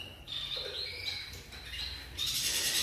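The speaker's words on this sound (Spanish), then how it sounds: "Los jilgueritos." Goldfinches and canaries chirp and tweet in a breeding aviary, several thin, bright calls overlapping at moderate distance, with a louder burst of twittering toward the end and no talk.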